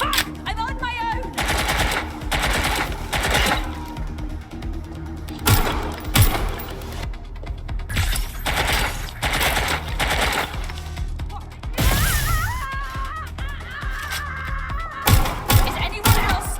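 Rapid automatic gunfire in the video game Watch Dogs Legion, loud bursts repeating almost continuously with brief gaps, mixed with game sound effects and a voice calling out.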